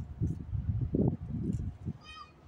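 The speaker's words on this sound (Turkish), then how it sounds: "Bir kedi var, bir gidelim geleyim." A cat meows several times, close and fairly loud, at the GameX 2022 fair at TÜYAP.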